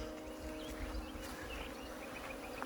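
A honeybee swarm pours out of hive number three, making a faint, continuous buzzing drone under steady background hum, with no voices.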